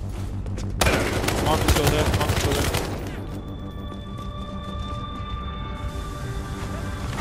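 Dense automatic gunfire in a multiplayer shooter match crackles loudly for a few seconds and then gives way to steady in-game ambience with tonal hums. Players talk over the action.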